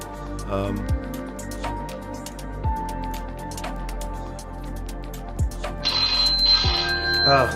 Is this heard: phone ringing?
yes